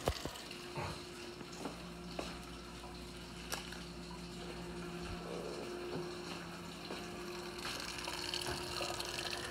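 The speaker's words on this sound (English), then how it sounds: "Boiling, boiling, boiling." Water bubbles and churns quietly and steadily while boiling in a pot, with a faint constant hum beneath it and a few small clicks and knocks.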